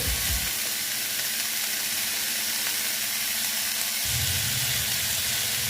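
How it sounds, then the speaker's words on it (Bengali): Chopped chichinga (snake gourd) fries uncovered in a pan over raised heat, giving a soft, continuous sizzle with some faint stirring and scraping. A louder burst of frying noise comes near the end. "স্টিলটা বাড়িয়ে আমি এটা ভেজে নেব ভালো মতন ভেজে নিচ্ছি"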